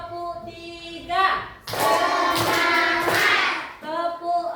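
A classroom of children clapping a counted rhythm pattern on cue from a teacher, a burst of broadband claps in the middle framed by her spoken voice before and after.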